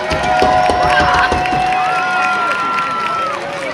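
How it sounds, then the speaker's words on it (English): Crowd cheering and applause at a high school football stadium, a loud sustained roar of claps and shouts with a whistle-like tone and voices mixed in. "Let's give them a big round of applause."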